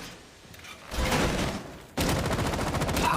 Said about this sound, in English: And they're just running and it's so much gunfire right now.